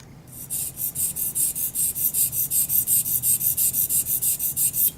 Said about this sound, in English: so I'm going to sharpen a little bit more.